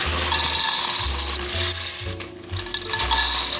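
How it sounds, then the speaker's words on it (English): Corn flakes being stirred into a warm mix of melted peanut butter and marshmallows, off the heat. Steady crackly rustling with a few soft low knocks and pauses runs throughout, with no voices. "now we will remove it from the heat, and we're gonna stir in the corn flakes"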